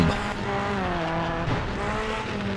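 A rally car in WRC 4 on a Swedish snow stage at Uddeholm roars at high revs while its tyres slide and skid, the engine note loud and close, wavering and dipping briefly midway.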